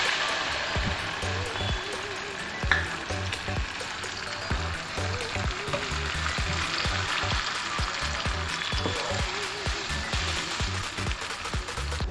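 100 ml of Old Monk rum goes into a hot sauce pan for a drunken chicken sauce, setting off a steady, crackling sizzle that stays close and continuous throughout.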